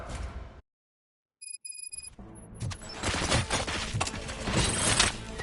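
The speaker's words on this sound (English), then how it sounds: "Gunshots? What's going on?" Gunfire erupts in the Robocop: Rogue City video game after a brief silence and a few high electronic beeps, building into a dense, sustained burst of rapid shots and impacts that grows louder toward the end.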